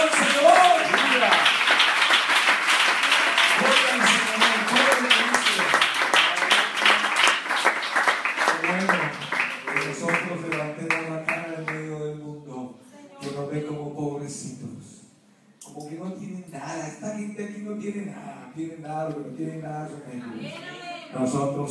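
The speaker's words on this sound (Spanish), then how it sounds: "¡Den un aplauso al Señor!" A church congregation claps and cheers during a lively Spanish-language sermon, strong applause at first that thins into scattered claps as a preacher's amplified voice and congregation voices take over.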